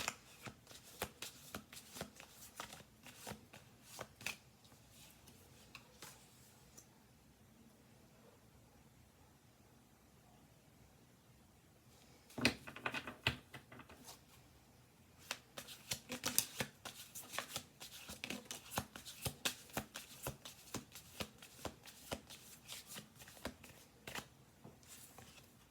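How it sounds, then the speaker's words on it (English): Tarot cards are shuffled by hand in repeated crisp riffling bursts, broken by a quieter pause in the middle before the rapid shuffling returns, close and fairly soft, with no speech. "10 cards on the table. We're going to do one more shuffle."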